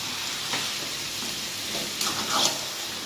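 Mutton curry fries with spices in a pan, giving a low, continuous sizzle. Louder stirring scrapes come near the end, with no talking.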